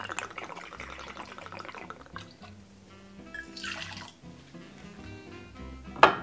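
Gin trickles into a cocktail glass over one or two ice cubes, soft close pouring and dripping in short bursts with faint clinks, quiet overall with a sharp knock at the end.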